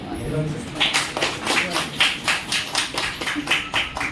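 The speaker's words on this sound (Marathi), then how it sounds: "त्याच्यासाठी सर्वांनी टाळ्या वाजवल्या." Audience at a Kojigari Purnima reading of the Buddha and His Dhamma clapping together in a hall, a steady patter of hand claps rising in rhythmic waves throughout, with murmuring voices faintly underneath.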